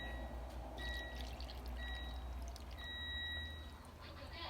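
Liquid pours in a steady, soft splashing stream into a pot of bean sprout kimchi stew with vegetables and meat, faint and continuous against a low background hum.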